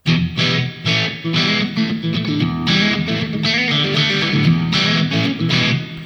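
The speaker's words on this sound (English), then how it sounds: "That actually doesn't sound bad for a plate reverb." Distorted music plays through a Donner Arena 2000 plate reverb, a lush, metallic wash trailing behind each note, loud and continuous without any talking.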